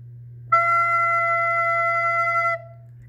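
A recorder plays one steady sustained note for about two seconds, clear and close, with a low background hum underneath.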